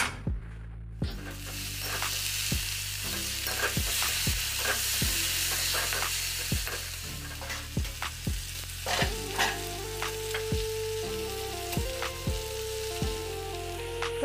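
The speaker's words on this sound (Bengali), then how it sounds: "আর এখন আলু ভাজাটা বসাবো এখানে" Potato slices fry in a hot pan on a home kitchen stove, a steady broadband sizzle throughout with repeated sharp clinks and scrapes of a spatula stirring, close and fairly loud with no talking.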